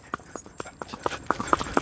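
Hooves of a walking Sindhi mare clip-clop in an even, close rhythm, soft but distinct, with a faint voice underneath.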